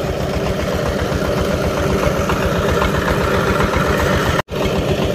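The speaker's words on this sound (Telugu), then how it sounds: "అప్పుడు ఆ ఇంజిన్ తీసుకొచ్చారు రెంట్కి, అట్లాగే దానికి డీజిల్ పోశారు" A rented diesel engine runs at a gold mine in Mali, giving a steady, loud, close idling drone with an even mechanical throb throughout and one very brief dropout near the end.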